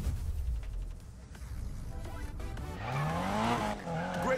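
Tires squealing under a drifting car in the racing game Need for Speed Payback, rising pitched screeches over steady engine roar that swell louder toward the end.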